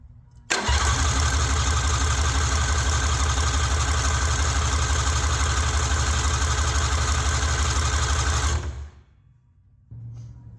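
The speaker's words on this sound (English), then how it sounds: "just gonna crank it for a little bit to try and get the oil up to the top end" Race car engine cranked over by the starter to push oil up to the top end: a loud, steady, rapid churning drone for about eight seconds, stopping abruptly, then a faint low hum.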